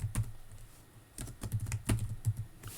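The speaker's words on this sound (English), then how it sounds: "We're going to type total sales." Keystrokes on a computer keyboard while entering a formula in an Excel 2016 spreadsheet: irregular bursts of close, crisp clicks with short pauses between, with no talk.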